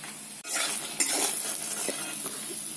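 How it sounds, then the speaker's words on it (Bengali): Lentil bori made from biulir dal fry in a pan with a dense, steady sizzle, broken by a few clinks and scrapes of a utensil. "বড়িগুলোকে আমি লাল লাল করে ভেজে নিয়েছি এগুলোকে আমি তুলে নেব"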